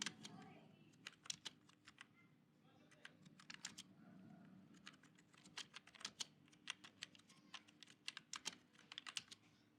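Fast, light clicking of a computer keyboard while code is written in VS Code, steady bursts of keystrokes with brief pauses, close but soft.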